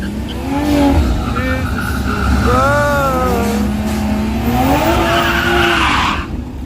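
Race cars roar past with rising and falling engine whines and some tire squeal, loud and continuous, with voices talking faintly underneath.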